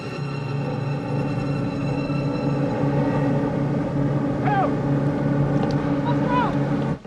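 A boat engine drones steadily and loudly throughout, a continuous motor hum with brief faint cries rising over it.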